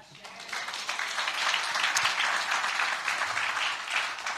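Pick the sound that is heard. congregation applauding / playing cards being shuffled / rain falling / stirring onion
congregation applauding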